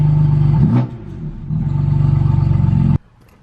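A tuned 500 hp BMW M4 on a GTS tune idles loudly with a deep, pulsing rumble, dips briefly, then rises again with a throbbing engine note before cutting off abruptly, heard close and without talk.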